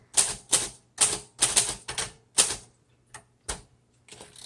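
A 1938 Royal Model O manual typewriter being typed on up close: a series of crisp, sharp key strikes in an irregular rhythm, about ten clacks with short gaps, heard alone with no voices.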